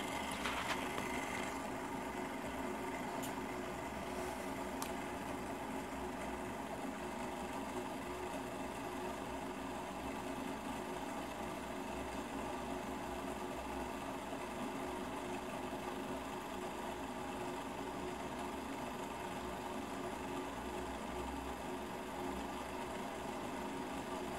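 A homemade lamina flow Stirling engine runs at around 1500 rpm, giving a continuous, even mechanical whir and buzz that hums steadily and quietly throughout with no talking.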